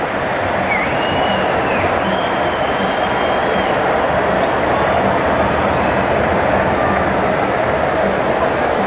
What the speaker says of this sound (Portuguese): E a torcida do Flamengo aplaude a belíssima atuação do time hoje